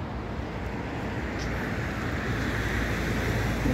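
Sea waves wash steadily onto the shore at Ain Diab beach in Casablanca on a cool morning, a continuous broad surf rush with some wind, fairly close and even, with no talking.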